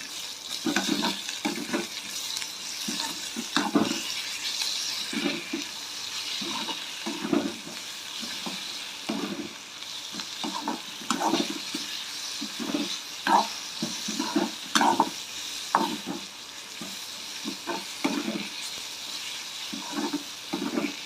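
Onions and tomatoes sizzle and fry in a pan while a spoon stirs them in repeated scraping strokes, a steady bubbling hiss under roughly rhythmic stirring, close and moderately loud with no talking.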